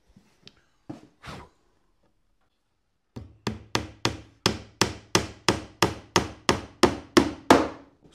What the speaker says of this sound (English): Something very satisfying about hammering a nail.